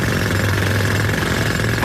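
A loud jackhammer pounds in a rapid, continuous mechanical rattle, close and steady throughout, with a steady hum underneath.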